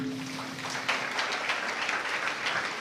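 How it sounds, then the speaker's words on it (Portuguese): A church congregation claps in praise after a sermon, a dense wash of applause with a faint tonal hum beneath, steady and moderately loud throughout. "As palmas louvem o Senhor."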